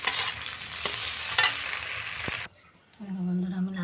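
Pieces of pointed gourd fry in hot oil with a loud sizzling hiss and a few scraping stirs. The sizzle cuts off abruptly, followed by a quieter, lower tone.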